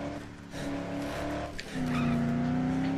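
Car engine in the Dead Island video game, a steady motor drone that rises in pitch as the car accelerates, with a brief tire squeal, heard close and alone.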